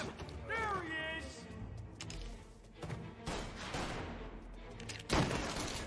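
Gunfire in the Mafia Definitive Edition video game, bursts of shots crackling through a busy mix of game effects, mechanical clatter and a loud impact near the end, with voices talking over it.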